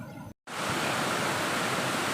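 Roaring rush of water at Panchalinga waterfall stream, a dense, steady broadband wash that cuts in abruptly after a brief silence and holds loud and continuous, with no voices.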